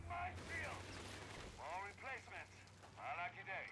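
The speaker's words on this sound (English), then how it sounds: "Grenadiers hit a mine." A squad of grenadiers sets off a mine in Company of Heroes 3, a muffled blast with gunfire under a low, steady battlefield rumble, while a voice talks over it.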